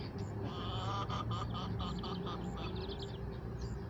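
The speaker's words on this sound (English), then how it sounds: "6 little baby duckies. And we got 4 bigger duckies." A flock of six baby ducklings and four bigger ducks keeps up a steady, dense chorus of overlapping quacks and peeping calls close by, continuous throughout.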